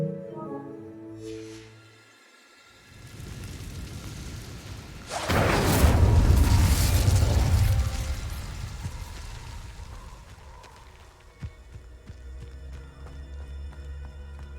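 An Incendio fire spell is cast in Hogwarts Legacy, flaring into a loud whooshing, rumbling burst that swells for a few seconds and then fades, following a quieter musical passage.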